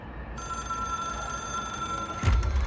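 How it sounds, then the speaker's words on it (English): A telephone rings in the video game Control: a steady tonal ring held under a low background hum, closing with a louder burst of noise. "It is a phone."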